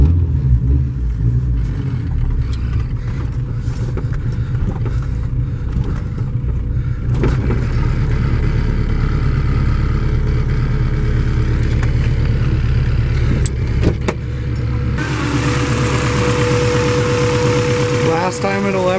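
Honda Civic engine running in its final drive before the engine is pulled, a steady idle rumble with occasional revs, close and loud, ending in a harsher rise near the end.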